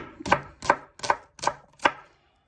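A knife chops onions on a cutting board for bœuf bourguignon, five crisp, evenly spaced strokes about every 0.4 seconds, close and clear with no talking.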